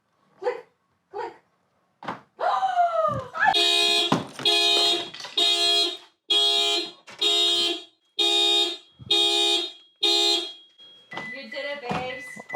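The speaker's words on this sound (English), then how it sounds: "I don't think I would ever be happy to hear a car alarm like this" A car alarm blares in repeated loud pulsing bursts right after the locked door of a car is opened without a key, preceded by a few short clicks and followed by voices talking.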